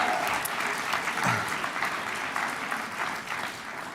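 SNP campaign conference audience applauding in a hall, a steady, fairly distant wash of many hands clapping throughout, with faint crowd murmur underneath.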